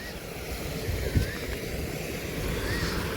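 Fresh rainwater from the hills flows past in a steady, broadband rushing wash, continuous and moderately loud, with no voices over it.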